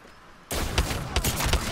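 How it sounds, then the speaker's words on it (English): Rapid gunfire erupts partway through a firefight in the battle-royale shooter Apex Legends, a dense burst of repeated shots with sharp peaks, fairly close and loud after a quiet start, with no talking. "Someone's shooting over on top there."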